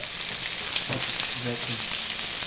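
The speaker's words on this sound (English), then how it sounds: "we have the red pepper, right? And we're just going to saute that just to get it a little charred" Red pepper sautéing in a pan for a gluten-free arroz con habichuelas, giving a dense, even hiss of sizzling that stays loud and steady throughout, with faint low clatter beneath.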